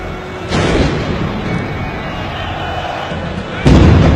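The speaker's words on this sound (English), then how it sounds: "Loud explosions rocking the stadium." Loud explosions boom through a stadium during an exhibition football match, with two heavy blasts, one early and one near the end, each trailing into a sustained roaring rumble.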